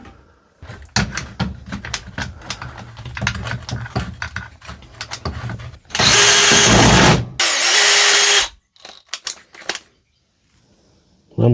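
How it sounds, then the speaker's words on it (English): A cordless angle grinder with a Lidl Parkside cutting disc slicing through a Dewalt drill chuck, starting with rapid rattling and clattering bursts, then two loud sustained grinding runs, then brief clatter before falling quiet. "The grinder did it with care."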